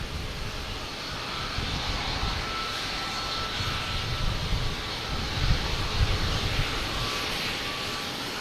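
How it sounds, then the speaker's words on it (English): An American Airlines A321 arriving from Dallas-Fort Worth at Boston Logan gives a steady, broad jet roar that holds fairly even throughout, swelling slightly past the midpoint, with no talk over it. "Next to arrive is American Airlines coming from Dallas-Fort Worth in A321."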